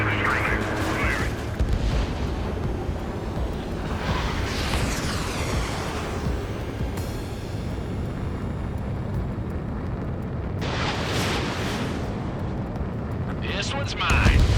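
Missiles launch and explode during aerial dogfighting in a jet combat video game, a continuous loud roar with rushing bursts and booming blasts, chiefly near 5 s and 11 s, while game radio voices talk over it.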